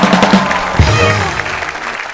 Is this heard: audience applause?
yes